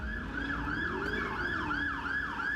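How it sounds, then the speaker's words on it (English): A police car siren wails in a fast, repeating rise-and-fall pattern during a chase, loud and continuous over road and engine noise. "hearing the police sirens behind, she realized that she'd been caught in a police car chase"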